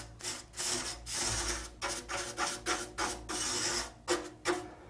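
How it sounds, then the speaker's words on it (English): A whisk broom brushing dry dust off a dusty vent, with repeated close, scratchy bristle strokes in a steady back-and-forth rhythm and short pauses between them. "Well, we've been carrying this whisk broom around, and I'm going to go ahead and use that."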